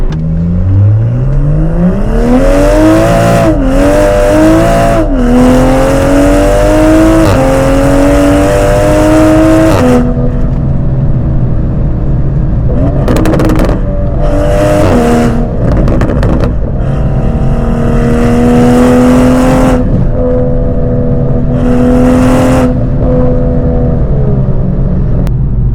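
Toyota GR Supra fitted with a new aftermarket exhaust, heard up close from inside while driving: loud rising revs through several gear changes, deep droning cruise between pulls, and sharp bursts as the throttle lifts.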